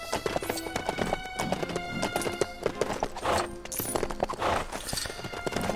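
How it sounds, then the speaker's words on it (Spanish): Clip-clopping horse hooves and bounding jumps in the LEGO The Hobbit video game, a quick uneven run of hoof beats set against game music. "Vaya brincos que da el caballito este."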